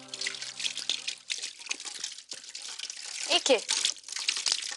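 Cold water running from a tap in a home bathroom, a steady splashing flow with drips heard under a voice in a Hindi TV drama scene, with background music.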